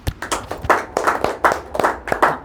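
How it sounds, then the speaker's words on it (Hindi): A classroom of students claps for both groups, with close, uneven bursts of hand claps rising and falling in rhythm for a few seconds. "आज ताली बजा देते हैं दोनों के लिए"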